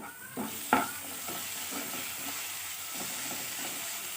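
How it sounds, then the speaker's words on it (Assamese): Rohu fish sizzles and hisses in a hot pan while a utensil scrapes and stirs it in a few distinct strokes, close by. "এইখিনি মই ভালদৰে ভাজি ল'ম"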